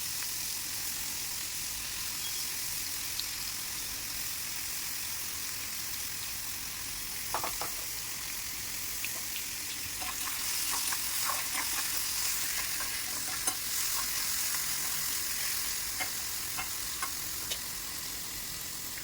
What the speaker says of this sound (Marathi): तेल गरम झालेलं आहे आपलं, त्यामध्ये आपण टाकूया कांदा, तो मी अगदी बारीक चिरून घेतलेला आहे